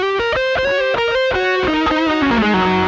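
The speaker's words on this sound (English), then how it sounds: "now the delay's on" Distorted electric guitar notes through a Rocktron Utopia G300 multi-effects unit with delay, played in a quick descending run, each note trailed by repeating echoes that blur into the next.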